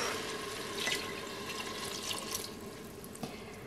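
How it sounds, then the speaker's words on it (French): Coconut milk and water poured into a Cookeo pressure cooker, a soft continuous liquid pour with light splashing close by. "Je vais ajouter donc le lait de coco et l'eau."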